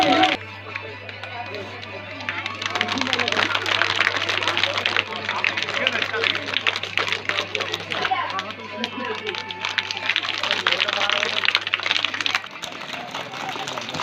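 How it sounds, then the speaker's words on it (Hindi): Children at a government upper primary school annual function in Juadra clap to welcome the school's donors, a dense, sustained patter of many hands that runs for most of the stretch, with a steady low hum underneath. "प्यारे बच्चों, तालियों से स्वागत"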